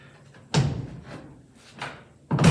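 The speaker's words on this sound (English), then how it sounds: "it is a little bit of an effort to close this door" A door with an Altman door latch being pushed shut with some effort, giving a few loud close thuds and latch knocks with quieter rustle between them, close by.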